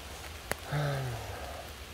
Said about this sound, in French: là ça pleut vraiment très fort